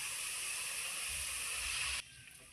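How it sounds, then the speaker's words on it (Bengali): A broth for hilsa and eggplant curry boils with a continuous soft steamy hiss that drops away abruptly near the end. "আমার ঝোল খুব সুন্দর ফুটে গেছে"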